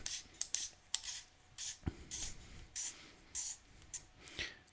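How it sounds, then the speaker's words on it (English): A retaining cap is screwed onto a Dead Air Primal suppressor booster housing over a spring, giving faint, close scratchy scrapes and small ticks in short repeated bursts. "You'll go ahead and set it inside that booster housing, put the spring over top, and then tighten this retaining cap over."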